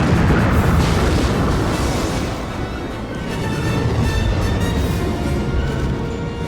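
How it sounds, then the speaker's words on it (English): A huge space station blows apart in a Star Wars film, heard as a sustained, loud, roaring explosion rumble that fills the whole stretch and fades only slightly. "An extremely large space station was destroyed by a lucky shot."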